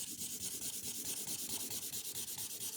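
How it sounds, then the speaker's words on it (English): A chisel-nib marker is rubbed back and forth while colouring in a mountain meadow background, a soft, steady rhythmic scratching close up with no talk. "I'm just going to take this and I'm just going to color this all in"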